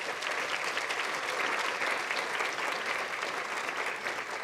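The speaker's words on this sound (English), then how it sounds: "Can we give her another round of applause, please?" Audience at a city State of the City address applauding steadily, a dense sustained wash of clapping that holds at even volume throughout without a break.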